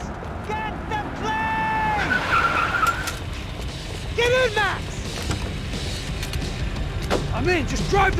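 Tires squeal in repeated sharp skids as a car tears away during a getaway drive in Max Payne 3, with engine noise, thuds and gunfire-like bangs around it and voices shouting over the chaos.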